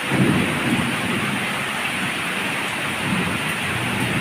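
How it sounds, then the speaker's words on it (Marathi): Heavy pre-monsoon rain pours down steadily in Pune, a dense, even hiss of drops on surfaces that holds at the same strength throughout, with no voices. "गेली 15 ते 20 मिनटं एवढाच जोर आहे पावसाचा"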